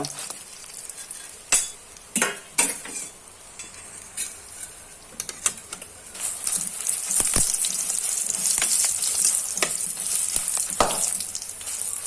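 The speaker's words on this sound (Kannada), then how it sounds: "ಆದಷ್ಟು ಮೀಡಿಯಂ ಫ್ಲೇಮಲ್ಲಿ ಇಟ್ಟು ಹುರಿಯುವಂಥದ್ದು" Black pepper fries in hot oil over a medium flame, sizzling steadily while a spoon scrapes and stirs, the frying growing louder and denser partway through.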